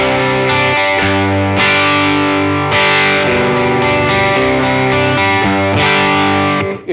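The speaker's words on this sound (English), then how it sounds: "then I'll go to the Noble Screamer where it's." Electric guitar through a Keeley Noble Screamer overdrive pedal set to OD mode rings out in loud, sustained distorted chords that change every second or so, alone without talk.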